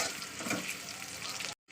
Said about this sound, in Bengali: চলুন পেঁয়াজটা একটু ভাজা ভাজা করে নেবো